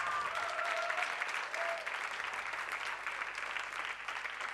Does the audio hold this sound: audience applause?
yes